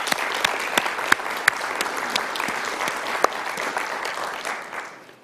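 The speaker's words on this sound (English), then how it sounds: "Let's have a round of applause for them." A round of audience applause for city staff during a mayor's State of the City speech: dense clapping with a few sharp individual claps, fading out toward the end.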